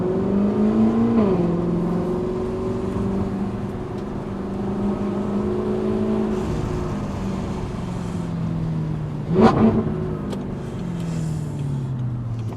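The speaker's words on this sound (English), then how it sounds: "Now we've got the exhaust on here. Let's give you a little sound bite of it in motion." An Audi R8's newly fitted exhaust drones steadily as the car moves, with a brief sharp burst of revving partway through, moderately close.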